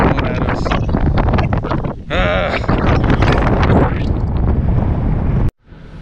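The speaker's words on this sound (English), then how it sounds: "It is super windy out there." Strong wind outdoors at Horseshoe Bend blasts directly into a phone microphone, a loud, continuous roaring buffet with gusty surges, ending in an abrupt cutoff.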